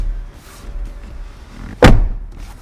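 The rear door of a Lexus ES300h swings shut with a single solid, close thump near the end, after a quiet stretch of low background noise.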